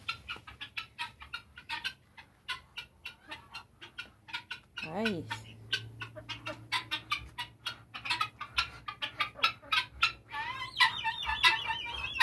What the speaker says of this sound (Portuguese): Galinha, capote.